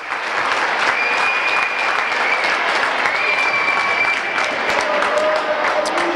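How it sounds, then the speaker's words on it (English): Sustained applause fills a high school basketball gym at a 1992 tournament game, many hands clapping in a dense, even roar that stays loud for several seconds, with a faint murmur of the crowd underneath. "Brad Schutz gets a big round of applause."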